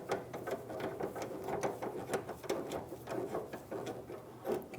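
A fuel tank strap bolt on a 2012-2017 Toyota Camry is run in a few threads with a quiet ratchet, giving a steady clicking rhythm at close range.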